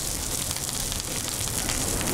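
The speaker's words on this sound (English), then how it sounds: "You hear that thyme crackle?" Thyme sprigs crackling in hot butter and garlic while basting pork in a pan, a dense continuous sizzle and spatter at steady loudness, close up with no talk.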